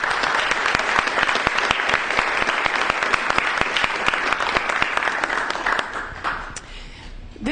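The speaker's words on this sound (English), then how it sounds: "give them a round of applause" A crowd gives a full round of applause at a business event, loud, dense clapping with sharp individual claps standing out, thinning and fading near the end.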